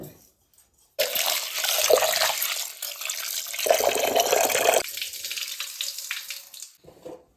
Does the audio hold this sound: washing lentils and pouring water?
yes